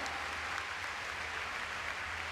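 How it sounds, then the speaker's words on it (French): Audience applause at a CSI5* show jumping event in the Prix Pershing, a steady wash of clapping from a distant crowd with no individual claps standing out. "Applaudissons tous ensemble Jérémy"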